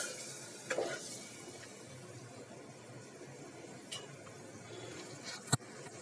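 Stuffed ridge gourd simmering in a thick masala gravy in a pan over low heat, a soft steady bubbling hiss with a few light stirring scrapes and a sharp utensil clink near the end.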